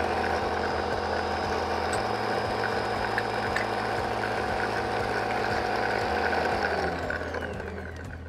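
An Ankarsrum Assistent Origin stand mixer works cookie dough with a steady mechanical hum and a repeating clicking, ratcheting rhythm from the rotating bowl and roller, close and continuous until winding down at the end.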